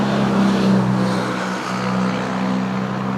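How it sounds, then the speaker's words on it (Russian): Tractors spraying sulfur along vineyard rows on a Massandra grape plantation, a steady close engine drone with a strong low hum that runs unbroken throughout, with no voices. "Трактора уже начали опрыскивать ряды плантации серой"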